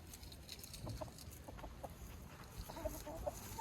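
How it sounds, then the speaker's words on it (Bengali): Hill chickens cluck faintly on a mountainside in Nepal, a few scattered short clucks over a low outdoor background. "নেপালে পাহাড়ের উপরে, মানে পাহাড়ি মুরগি"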